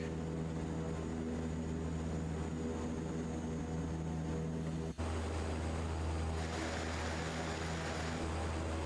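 Propeller airplane engine in Microsoft Flight Simulator 2024, a steady tonal hum that shifts abruptly partway through into a fuller, rougher roar, continuous and unaccompanied by voices.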